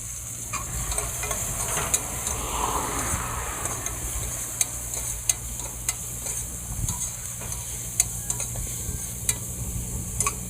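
Onions fry in a pan at a campsite, a steady soft sizzle with scattered sharp ticks and occasional stirring scrapes, moderately close and unbroken by speech.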